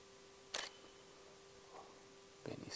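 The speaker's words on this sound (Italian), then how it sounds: "passo in manuale e scatto." A camera shutter fires twice while taking flash photos, two crisp mechanical clicks about two seconds apart, close and fairly loud, with a faint softer click between them over a quiet room hum.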